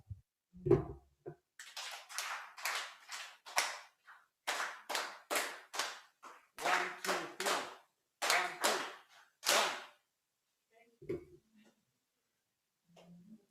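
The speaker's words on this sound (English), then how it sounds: "So you start with 5 claps, 4 claps, 3 claps." An audience at the Kenya Valuation Standards launch claps in a countdown pattern, crisp unison groups of five, four, then three sharp claps with brief pauses between, ending in a few scattered stray claps.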